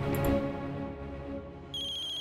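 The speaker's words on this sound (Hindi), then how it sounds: "फिर से रिकी का फोन।" A phone ringtone plays over a steady tonal music-like background, with a bright repeating ring entering near the end.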